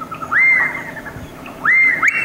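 A recording of a whistling bird's song plays back, with clear upward-sweeping whistled notes, one early and two close together near the end, loud and alone.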